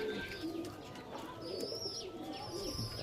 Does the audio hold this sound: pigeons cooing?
yes